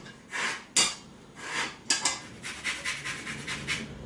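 An orange being zested for a pistachio panettone: a series of short rasping scrapes against a grater, irregular at first and then a quicker rhythmic run, close and moderately quiet with no talking.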